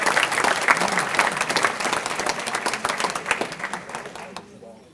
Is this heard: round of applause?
yes